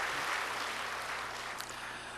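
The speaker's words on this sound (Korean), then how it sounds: "우리 박수로 한번 하는 게 영광 돌리겠습니다" A church congregation applauds steadily at a fair distance, a dense, even wash of clapping filling the room with no voices above it.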